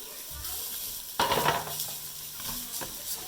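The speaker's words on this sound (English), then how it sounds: "I'm gonna kind of let the rice also saute on the bottom of the pan and get all the oil" Rice tossed into a pan with avocado oil sizzles and is stirred, a soft frying hiss with a brief scraping burst, close and fairly quiet.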